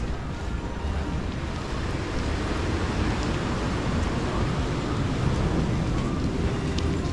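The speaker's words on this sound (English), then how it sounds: "Here are the waves." Constant broadband roar of surf on a beach at Puerto Vallarta, Mexico, washes over the whole clip, mixed with gusty wind buffeting the microphone; no distinct breaks between waves.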